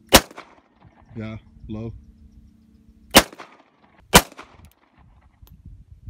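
Semi-automatic gun fired at a shooting session, a few sharp loud cracks spaced apart with brief speech between shots.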